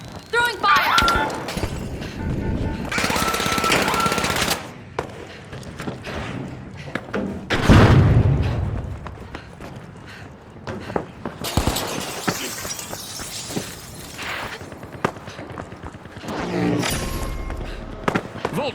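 Poison and fire grenades thrown in the video game The Finals, bursting with loud crackling blasts, hissing and thuds, layered with game voice and chaotic combat noise over about twenty seconds.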